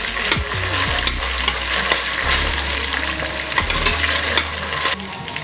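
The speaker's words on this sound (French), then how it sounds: "Je mélange bien les tomates, les oignons" Tomatoes, onions and peppers frying in a pan for peanut-paste chicken, a loud continuous sizzle with repeated spoon stirring and scraping throughout, no talking.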